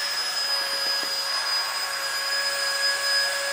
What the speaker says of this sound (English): we hit that deflator, and it is sucking all that air out and blowing it out the motor side